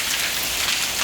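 Rain falling on a roof, a dense loud hiss of countless drops, steady and close with no pauses or voices.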